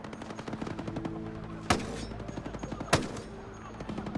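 Two sharp SVD rifle shots in the Ghost Recon video game, spaced about a second apart, cracking out over a busy game background of rapid mechanical clatter and ticking.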